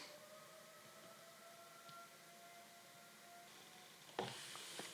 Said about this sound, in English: that siren goes a little longer than the trains around here